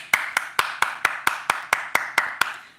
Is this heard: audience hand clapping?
yes